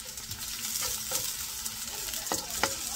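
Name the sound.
garlic frying in a hot pan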